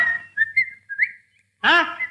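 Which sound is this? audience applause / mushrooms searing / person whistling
person whistling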